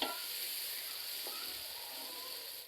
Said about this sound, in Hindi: तीन से 4 मिनट हम टमाटरों को भी पका लेंगे।